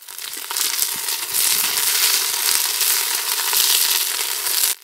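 Onion paste lands in hot oil with frying curry leaves for a country chicken rasam, setting off a loud, dense crackling sizzle that rises quickly and holds steady, with scattered pops and scraping stirs.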